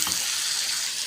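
Shrimp drop into a hot pan with sautéed vegetables, giving a steady, loud broadband sizzle and hiss with a brief burst at the start, close by.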